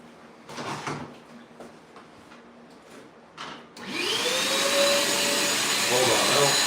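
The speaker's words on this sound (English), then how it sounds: "We get on the vacuum." Vacuum cleaner in a home during electrical work fitting switch and outlet covers, starting abruptly partway through with a loud, steady whine rising in pitch, after a few soft knocks and rustles.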